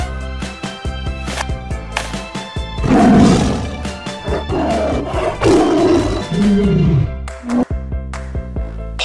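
A white tiger roars loudly and close, with long growling roars rising and falling over a background of playful children's music.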